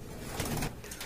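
Pigeons of local and foreign breeds kept for sale coo in a short, low throaty burst rising in the middle, close by over a noisy background.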